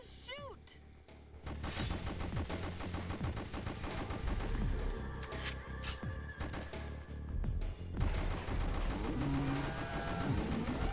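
Rapid gunfire from the rail shooter video game House of the Dead Overkill, dense repeated shots over game sounds and music, with voices speaking throughout.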